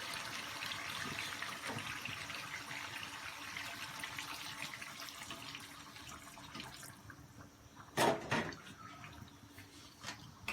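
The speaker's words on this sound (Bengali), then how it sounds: "আমি এটাতে এখন ফাইনাল পানি দিয়ে দিব, একদম ঝোলের জন্য যে পানিটা" Water poured into a pot of chicken curry with new potatoes cooked in mustard oil, a steady splashing pour running throughout, with a brief louder splash near the end.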